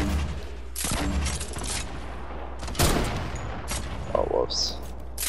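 Gunfire in the video game Fortnite: a few sharp, loud shots standing out over a busy game background, with some voice activity in between.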